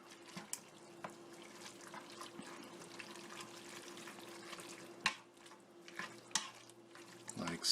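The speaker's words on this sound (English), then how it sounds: "Give it a stir." Pot of chili with drained beans in sauce and vegetables being stirred, soft wet sloshing and scraping with a few sharper clinks of the spoon against the pot, faint and close.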